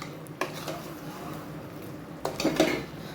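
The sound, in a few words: stirring potato, brinjal and bottle gourd in cooking pot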